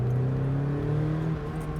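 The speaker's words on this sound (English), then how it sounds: "I can now put full throttle down, and there's way better response" Car engine revving hard at full throttle after a throttle cable adjustment, a steady close drone with a strong low hum that eases slightly near the end, no voices.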